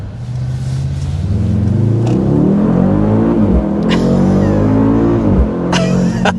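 A 2024 Mercedes-AMG GLS 63 SUV with a handcrafted 603-horsepower V8 accelerating hard, a loud close engine roar that rises in pitch through several gear changes with brief shift breaks.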